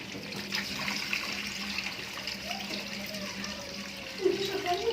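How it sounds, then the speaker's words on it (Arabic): A kitchen tap runs with a steady hiss while muffled voices talk in the background, and a brief louder gush comes near the end. "ما تفتحي الحنفية"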